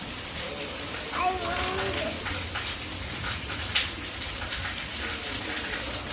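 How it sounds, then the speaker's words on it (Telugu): Steady rain falls outdoors as an even, close hiss throughout, with faint voices briefly in the background. "వానొస్తుంది కదా"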